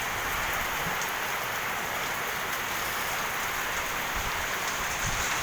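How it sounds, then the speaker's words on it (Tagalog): Heavy typhoon rain pours down steadily in Infanta under a signal number 2 storm, a dense, continuous roar of drops hammering surfaces with no pauses, loud and close throughout. "Kaya napakalakas ng ulan."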